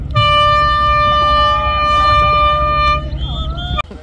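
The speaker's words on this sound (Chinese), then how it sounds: "鸣笛声响起" A loud, sustained horn blares for almost four seconds to start a children's relay swim across the sea to Keelung Islet in Taiwan, then cuts off abruptly into faint background bustle.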